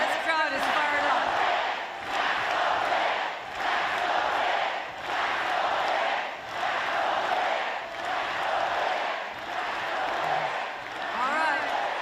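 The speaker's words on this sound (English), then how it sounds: "the audience wasn't really interested in her remarks and tried to drown her out, chanting" A large, fired-up political rally crowd chants loudly, drowning out the New York governor's remarks, with rhythmic shouted bursts repeating about every second and a half in a steady, roaring cadence.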